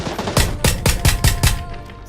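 Rapid burst of gunfire from an automatic weapon in the battle royale video game PUBG, about six loud, evenly spaced shots in quick succession, close and alone with no talking.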